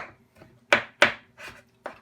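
Hot cooked tomatoes cut with a knife on a board, heard as five or six separate soft chopping thuds with short gaps between them.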